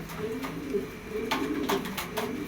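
A male pigeon coos in soft, repeated low throaty phrases close by, while short sharp bursts of other noise cut in now and then and a faint voice murmurs in the background.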